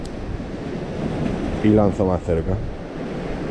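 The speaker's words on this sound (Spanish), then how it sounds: "Y el mar se ha vuelto bravo, bravo." Rough sea surf rolls onto the shore at a surfcasting spot as a steady windy roar, while someone speaks briefly over it.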